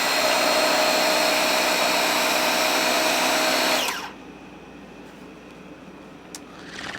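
A DeWalt DCPW550 cordless 550 psi pressure cleaner sprays in a loud, steady hiss for about four seconds, then cuts off abruptly, leaving a faint low background.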